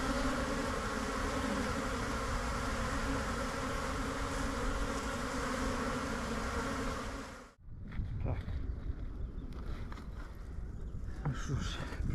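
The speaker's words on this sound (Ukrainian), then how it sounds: "працюють бджілки. Йде обліт" Honeybees fly around their hives in a dense, steady buzz that cuts off abruptly partway through, followed by quieter, scattered outdoor sounds.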